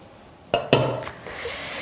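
Seasoned bean sprouts with chili flakes and gochujang tossed in a pot, giving two sharp clanks of utensil against the pot followed by a soft, close stirring rustle with light sizzle-like texture, no talk.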